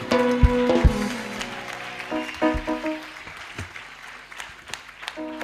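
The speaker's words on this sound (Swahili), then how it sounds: "Makofi kwake." Applause from an audience at a ministry anniversary celebration, sparse claps scattered over a sustained musical backdrop, rising briefly and then thinning out, moderately loud.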